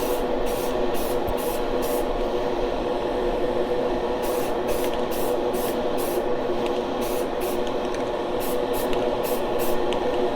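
Short bursts of spray paint hiss onto a classic NASCAR H&R model car chassis, several quick passes in two groups, close and alone over a steady hum of room noise.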